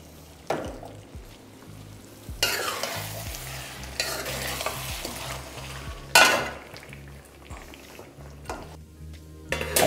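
Chicken masala cooking in a pan is stirred vigorously, with loud scraping and clanging strokes rising over a steady sizzle. The bursts come in uneven waves, close by, with no voices.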